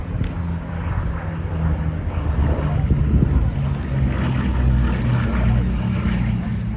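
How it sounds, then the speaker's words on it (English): A Bristol Blenheim Mark I fighter flying at the IWM Duxford D-Day anniversary airshow: a loud, steady propeller-engine drone that swells and holds, with a commentator talking over it. "And this aircraft is now configured as just such a Blenheim Mark I fighter of 1F."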